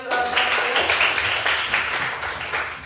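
A classroom bursts into steady, dense applause for a student, many hands clapping together at close range for about three seconds with no talking.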